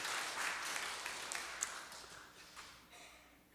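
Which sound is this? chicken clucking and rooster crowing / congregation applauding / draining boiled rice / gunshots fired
congregation applauding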